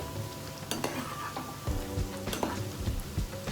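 Salt seedai dough balls drop into hot oil and fry with a steady sizzle, a few sharp clatters and stirring scrapes from the pan rising over the bubbling, close and moderately loud, no voices.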